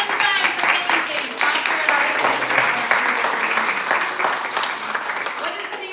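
Lively audience applause at a poetry reading, dense clapping with some cheering, sustained and fairly close for several seconds.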